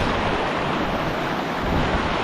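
Steady rushing of a flowing forest river fills the scene, a dense continuous wash of sound with no voices.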